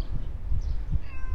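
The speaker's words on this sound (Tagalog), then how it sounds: "Ayan, may magandang pusa oh." A large cat at the seaside gives a short, fairly faint meow near the end, over low steady background rumble.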